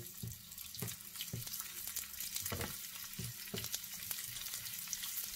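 Sweet potatoes frying in olive oil in a pan give a steady close hiss and sizzle, broken by soft irregular knocks and stirring sounds, quiet overall.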